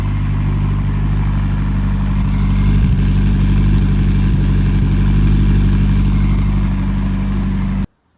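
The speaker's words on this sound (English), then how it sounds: "So what exhaust note do you prefer?" An Opel Z20LET or Ford RS car engine on V-Power fuel idles through its exhaust: a loud, close, steady low rumble with a couple of slight blips, cutting off abruptly at the end, with no talk.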